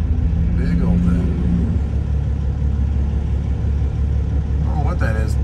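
A Peterbilt truck pulling an oversized load at a stoplight gives a low, steady engine rumble close by, with a person talking over it.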